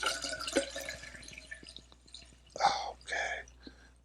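Moon water poured from a container into a smudge spray mixture in a kitchen, two short close splashing bursts of liquid after a quieter stretch of faint drips and soft whispering.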